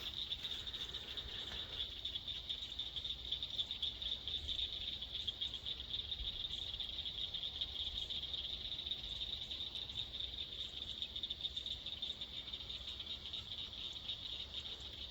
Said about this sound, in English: Listen to them frogs.